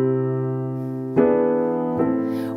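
A dominant seventh chord in inversion is played on piano with an R&B/gospel voicing, sustained and ringing, then restruck twice, loud and close with no talking.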